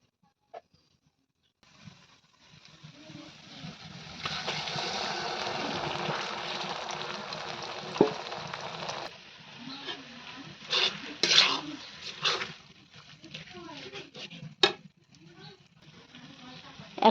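Ground green chili, raisin, ginger, garlic and cashew pastes go into a pot for chicken biryani, bringing a sizzling wash, then scraping and clinking spoon strokes against the metal, with a voice speaking at times.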